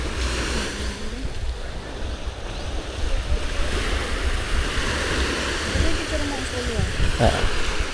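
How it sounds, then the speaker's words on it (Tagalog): Sea waves wash continuously onto a beach in El Nido, a steady close surf roar with wind buffeting the microphone while people chat nearby. "Ayun, may alon dun"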